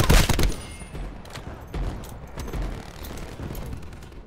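Gunfire in Call of Duty: Black Ops 4 during online play, an initial loud crack followed by several softer, scattered shots and mechanical clatter over a few seconds.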